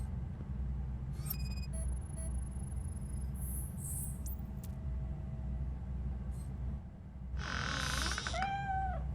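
A cat meows a few times in RoboCop Rogue City, short high calls over a low, steady rumbling game ambience, with a brief clatter near the start.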